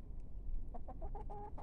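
Rescue hens cluck softly inside their chicken coop, a short run of close, repeated clucks standing out over a steady low background.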